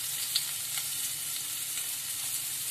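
Finely chopped onion and coriander leaves frying in a pan for aloo kurma, giving a continuous soft, even sizzle close by with no talking.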